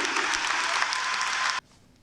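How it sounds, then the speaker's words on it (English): Audience applause following a speech clip, a steady dense roar of clapping that cuts off abruptly near the end, leaving quiet room tone. "We let the applause ring out after that clip"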